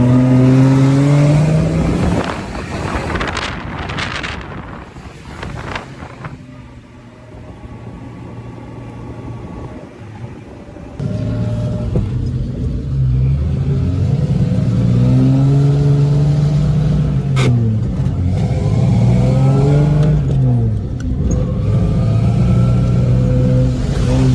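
A Jeep with a rebuilt 4-liter engine revs and accelerates through mud on a lane, its engine note rising and falling in loud, close surges, with a quieter lull partway through.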